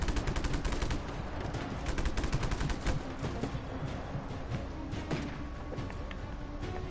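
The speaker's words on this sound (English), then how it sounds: "Yeah, because you're shooting at me!" Sustained machine-gun fire in the open-world action game Just Cause; a steady, dense stream of rapid close shots continues throughout without a break.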